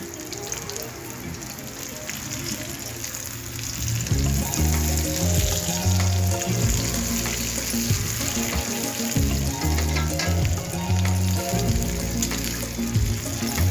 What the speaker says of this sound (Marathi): अशी भेंडी टाकणार आहे मी तेलामध्ये आणि दमावर होऊन द्यायची ती भेंडी